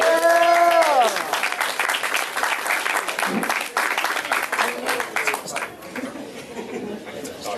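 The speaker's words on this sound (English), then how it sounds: "I want you guys to start clapping it up for the very talented Michael Farley, everybody." An open mic crowd at a brew house gallery claps for a performer, loud at first and then tapering into scattered clapping and chatter, with a voice talking over the start.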